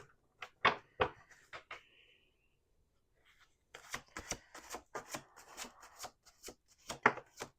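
Tarot cards are shuffled and riffled in quick bursts of soft flapping and slapping, with a brief quiet pause between rounds, close and fairly faint.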